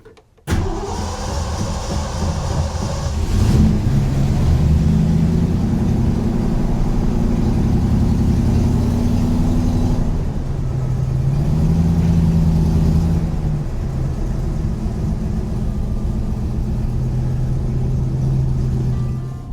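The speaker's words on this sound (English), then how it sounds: "This will be a cold start." A 1968 Ford Bronco engine cold-starts with a brief crank, catches and settles into a loud, steady, rumbling idle that holds close by throughout, with no talking.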